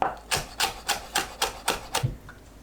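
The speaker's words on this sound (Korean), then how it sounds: "청양고추 1개, 홍고추 반개 씨 빼고 채 썰어주세요." A knife chops green Cheongyang chili and seeded red chili into thin strips on a board, giving about seven evenly spaced, crisp cutting taps at a steady rhythm, close and alone.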